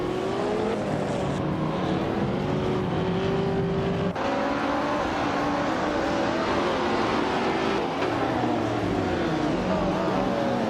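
Race cars tearing around a track in a video game, engines whining and revving continuously with shifting pitch, a dense near pack of motors, tire noise beneath, loud and steady throughout.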